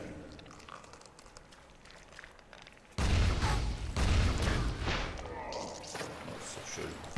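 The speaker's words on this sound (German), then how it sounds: "Zwei Schüsse und sie sind hinüber." Gunfire from a video game, with a sudden heavy burst of booming shots after a quieter stretch of ambient game noise, loud and dense through the second half.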